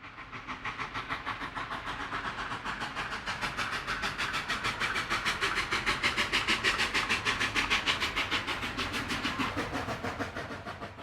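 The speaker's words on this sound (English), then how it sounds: "The climb gets steeper, and the locomotives have to work much harder. Listen to that stacked talk" A narrow gauge K-28 steam locomotive, number 478, works hard on a steep Colorado climb, its stack exhaust a rapid, steady chuffing beat that swells louder toward the middle and holds close without voices.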